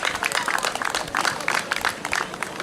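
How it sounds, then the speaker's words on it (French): Audience applause at a school excellence celebration evening, with dense, even clapping that holds steady throughout the short stretch. "Je demande une fois de plus qu'on applaudisse pour la promotrice des établissements Mopi."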